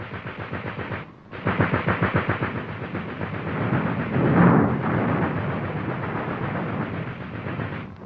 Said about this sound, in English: The enemy sights them as artillery seeks the range.